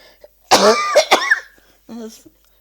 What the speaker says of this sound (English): I cough so much